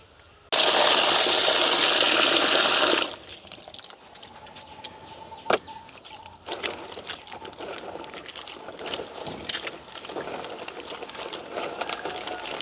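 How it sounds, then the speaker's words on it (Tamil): Jackfruit seeds being washed in water, with a loud rushing gush for the first few seconds, then quieter splashing and rattling of seeds sloshing in a basin. "இப்போ பிலாக்கொட்டையை நாங்கள் கழுவி எடுப்போம்."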